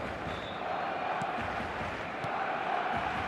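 A stadium crowd in the football video game eFootball gives a steady, fairly quiet murmur with faint swells, continuous throughout without standout cheers.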